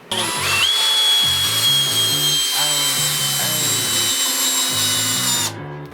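A Crown cordless screwdriver drives a 6x90 screw, its motor whining loudly and steadily under load for about five seconds before cutting off abruptly.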